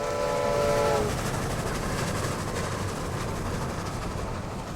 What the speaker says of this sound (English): the train roared into being and swept down the gradient